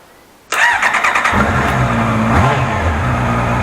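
A Honda motorcycle engine, running on a newly coded cheap key, cranks and fires almost instantly after a quiet moment, then settles into a loud, close, steady running rumble.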